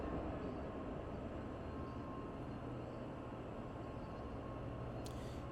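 An AI container freight train passes on Sherman Hill in Train Sim World 2 as a steady, low rumble and rolling rail noise, continuous and fairly faint, with no talk.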